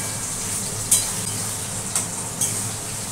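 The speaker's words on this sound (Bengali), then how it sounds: "দেখো বন্ধুরা, আমার আলু বেগুনগুলো ভাজা হয়ে গেছে।" Potatoes and eggplant fry in oil in a pan with a steady, soft sizzle, and three short clinks of a spatula or utensil against the pan stand out at irregular moments, with no talking.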